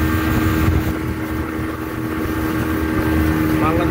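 Speedboat engine droning steadily on Tanguar Haor, a loud continuous motor roar with wind buffeting throughout.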